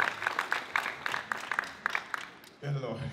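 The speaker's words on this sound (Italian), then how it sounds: "La parola a Manlio è un applauso per lui" A small crowd at a political rally for a mayoral candidate in a town square gives sparse, faint applause that fades out before a voice begins speaking.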